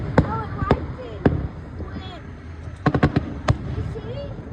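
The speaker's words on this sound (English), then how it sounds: "It's just the flash after the fireworks." Sharp, loud fireworks bursts at a thunder festival crack out in irregular single hits and quick clusters, with people talking nearby between the blasts.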